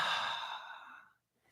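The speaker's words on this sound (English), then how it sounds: "So let's exhale." One long, deep exhale during a guided breathing exercise, close and breathy, fading out into silence after about a second.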